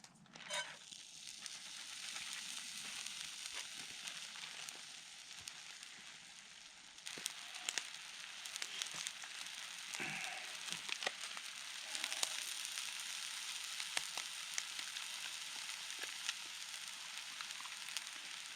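Freeze-dried hash browns frying in a pan outdoors for a camp breakfast, a soft steady sizzle with scattered crackles and a few scraping clatters partway through.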